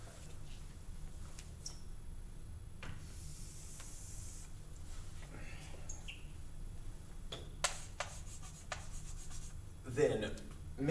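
Pen marking on a board, faint scratchy strokes and rubbing hisses scattered across the stretch, a couple of sharper bursts near the end, over quiet room noise.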